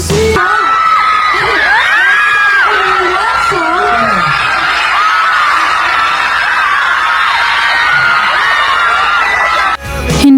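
A university crowd cheers and shouts loudly and continuously, with many overlapping excited voices and shrieks filling the space for about ten seconds before an abrupt cut.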